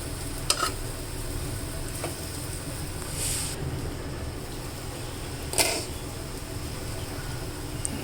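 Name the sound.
brinjals frying in oil on low flame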